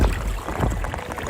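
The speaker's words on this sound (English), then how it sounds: "Just paddling out some slack water" A canoe paddled across slack water during an Alaska moose and bear hunt, with soft close splashes and drips from the paddle over a low, steady rumble of wind and water.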